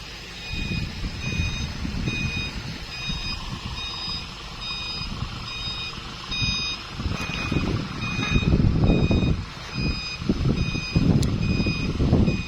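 A dump truck reverses on a hill road, its steady, evenly spaced reversing beeps repeating throughout over a rumbling diesel engine and uneven ground noise.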